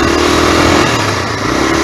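Honda NX 250 motorcycle engine revving hard as the clutch lets out, a loud, close, continuous buzzing roar with no pauses.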